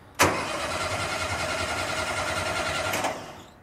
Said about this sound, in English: I'm going to go ahead and turn it over a little bit